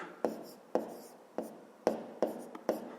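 Pen strokes on paper as numbers are written out by hand for a fifth-grade maths exercise, six sharp scratching taps at uneven intervals, close and clear in a quiet room.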